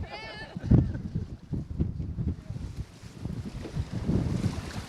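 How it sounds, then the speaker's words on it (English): Gusty wind buffets the microphone in low rumbling bursts outdoors on a river, with a voice speaking briefly under it. "There's no such thing as a good wind sound."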